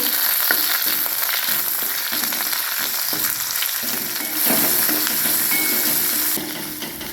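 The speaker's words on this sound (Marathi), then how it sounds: "थोडे थोडे आपण मोहरी घ्यायचे, थोडे जिरं पण घ्यायचे, ते टाकून देऊया तेलामध्ये आणि त्याच्यातच आपण कढीपत्ता पण टाकून देऊया" Mustard seeds, cumin and curry leaves hit hot oil and give a loud, steady, close sizzle with faint crackles, while a spoon stirs in a pan for a sprouted moth bean curry.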